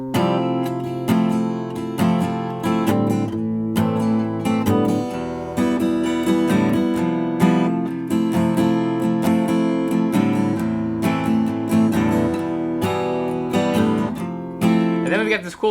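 An acoustic guitar strums chords from a song in a steady, continuous rhythm, close and clear, with no voice over it.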